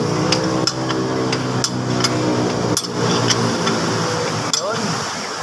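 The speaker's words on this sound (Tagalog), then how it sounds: "So ito gagamit ng filter wrench." Sharp metallic clicks from a filter wrench tightening the oil filter on a Mitsubishi Mirage during an oil change, striking at irregular intervals over a steady, humming mechanical drone.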